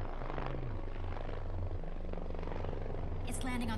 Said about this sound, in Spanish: Es cuando hay que derribar el helicóptero.